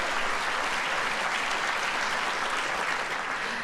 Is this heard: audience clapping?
yes